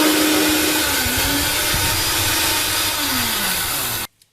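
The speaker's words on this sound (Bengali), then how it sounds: "পোস্তটা প্রথমে আমি শুকনো একটুখানি মিক্সিতে গুঁড়িয়ে নেব।" A mixer grinder runs dry on about two spoonfuls of poppy seeds, giving a loud, steady motor whine with rattling grit for roughly four seconds before it cuts off abruptly.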